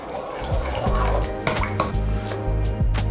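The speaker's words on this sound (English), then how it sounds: "Then add 1 tablespoon of sugar and mix everything." Yeast and sugar being mixed with a spoon in a bowl, giving repeated clinks and scrapes against the bowl over a low background hum, close and moderately loud.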